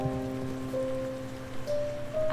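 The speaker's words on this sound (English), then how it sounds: "After a knowable amount of time passing, rain falls from the sky" Steady, soft rainfall from a video game, a continuous diffuse patter sitting under sustained tonal music drones that shift pitch slightly, with a brighter splash of sound at the end.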